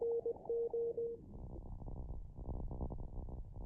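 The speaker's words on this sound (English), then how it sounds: "everybody hear that annoying humming sound? Yeah. That is the signal." A Morse code signal comes through a ham radio receiver tuned to 14027 as a steady hum. A short run of clear beeping tones fades into low, rumbling static hiss.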